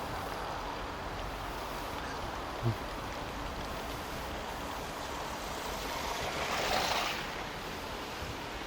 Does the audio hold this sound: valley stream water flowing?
yes